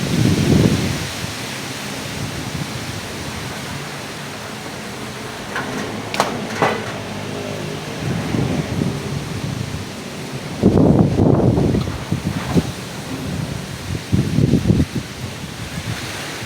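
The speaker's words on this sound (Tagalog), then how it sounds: "ang bagyo, paikot ang hangin." Strong swirling typhoon wind from Opong in Batangas roars outdoors, a constant broad rush broken by heavy gusts that buffet the microphone with loud rumbling bursts.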